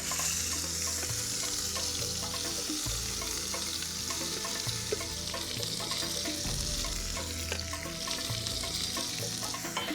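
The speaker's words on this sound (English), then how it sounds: "One of the things that makes this spice paste unique is that you fry it before applying it to the meat." Lemongrass spice paste frying in a pan, a steady close sizzle with rhythmic stirring scrapes throughout, no voices.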